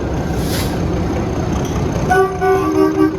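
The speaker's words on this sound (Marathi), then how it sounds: "तर फायनली आपली ट्रेन आलेली आहे." Train pulling in at a station platform on a trip to Goa: a loud, steady rumble of rolling carriages with bright, sustained tones from brakes or a horn toward the end, heard close with no talk.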